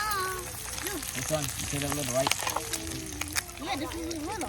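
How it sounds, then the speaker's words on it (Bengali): A croissant is set in a frying pan to toast, giving a soft steady sizzle beneath people talking close by, with occasional light clatter of the pan. "এখানে ফ্রাই প্যানে দিয়ে কোসান টোস্ট করে দেবো।"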